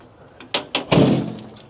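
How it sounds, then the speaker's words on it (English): Heavy steel door of an old, rusty, rugged army truck fitted with tire chains swinging shut: a couple of light metallic clicks, then a loud close-by slam with a short rattling decay. "That door must weigh 150, 200 pounds."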